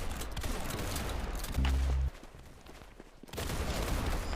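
Gunshots in the Roblox game Arsenal, a dense clatter of rapid shots and impacts with a brief low electronic tone midway and a short lull before firing resumes.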